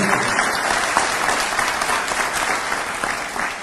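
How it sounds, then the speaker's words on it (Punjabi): Loud, dense applause from a large crowd at a registration event for Operation Abhyas attended by a cabinet minister, holding steady and close for the whole stretch with no voices rising above it. "ਇੱਕ ਵਾਰੀ ਜ਼ੋਰਦਾਰ ਤਾੜੀਆਂ"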